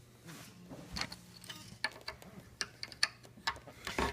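An acoustic guitar string is wound around its tuning post by hand, producing quiet, irregular ratcheting clicks and ticks from the turning tuner gear, close and faint, with no talk.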